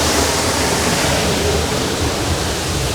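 Waterfall in Antalya heard from behind the falling water: a dense, steady, full-range roar, close and loud throughout with no other sounds.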